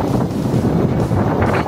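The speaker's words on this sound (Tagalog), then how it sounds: "Napakalasakas ng hangin dito." Strong typhoon wind buffets the microphone with a constant low roar and rumble, gusting slightly, no voices.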